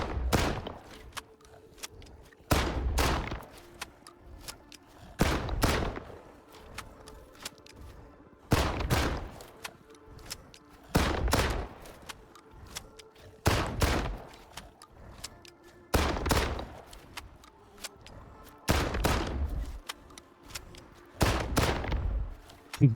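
Sawed-off shotgun blasts in S.T.A.L.K.E.R. 2, fired at a mutant: about nine loud, booming single shots spaced a few seconds apart, each with a sharp crack and a rumbling tail, over a low game ambience.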